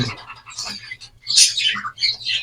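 A male pet bird, a cock, calls with a run of squawky chirps and chattering notes, fairly close, with short bursts and a brief pause between them.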